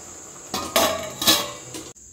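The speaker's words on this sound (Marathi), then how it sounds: "आणि इथं आमचा गुळाचा शिरा होतोय अजून" Pots and metal utensils clank close by in a home kitchen while jaggery sheera cooks: a few distinct clattering bursts, then quiet.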